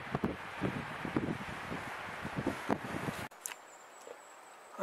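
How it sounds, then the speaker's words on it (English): Strong wind gusting about 60 km/h buffets the microphone with rumbling, uneven gusts and rustling, then abruptly cuts to a much quieter background. "It's pretty freaking windy up here. Gusting about 60 kilometers an hour."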